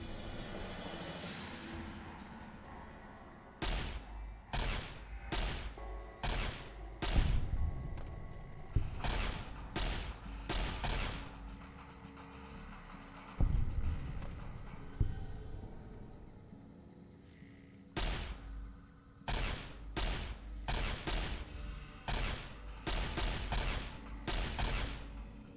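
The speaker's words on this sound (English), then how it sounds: "Neat little firing squad." Gunfire from a firing squad in Fallout: New Vegas, a series of loud, sharp shots in uneven bursts with short pauses between them, and no talking over it.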